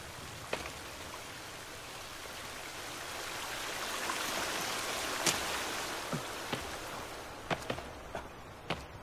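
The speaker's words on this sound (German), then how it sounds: "Hier ist wieder Wasser und es wird wieder laut." Steady rushing water flows throughout in the video game The Forest, swelling slightly in the middle, with a few sharp clicks and taps on top; no talking.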